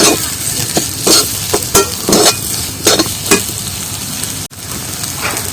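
Mashed potato with turmeric and salt sautéed dry in a pan, giving a loud, steady frying hiss broken by repeated scraping stir strokes and one brief drop-out.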